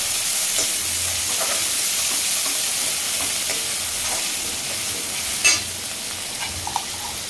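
Chopped onion fries and sizzles in a pan while it is stirred, giving a steady close hiss with scraping stir sounds and one brief louder clatter near the end.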